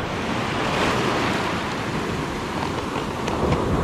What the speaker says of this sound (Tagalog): Ang lalaki ng alon talaga.